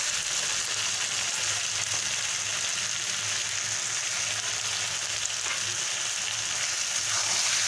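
Bottle gourd curry sizzles and fries in a pan as it is stirred, a steady close hiss that runs unbroken from start to finish.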